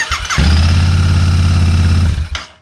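A Royal Enfield Interceptor 650 motorcycle cranks and tries to start after relay work, with a loud sustained low mechanical churning that lasts about two seconds before cutting off, followed by a brief click.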